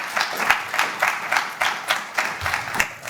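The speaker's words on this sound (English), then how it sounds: "Round of applause for that." A room audience at a student debate event gives a round of applause, a steady wash of many hands clapping with gentle rhythmic swells, fairly close and with no talking over it.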